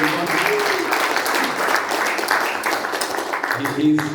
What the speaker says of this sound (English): A round of applause for Emil, please.